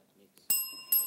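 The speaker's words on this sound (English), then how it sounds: "that bell means it's the end of the final challenge and the end of the match" Two bright ringing strikes of a quiz show bell, sharp and close with a lingering metallic tone, ending the final challenge of a televised high school quiz match after faint murmuring.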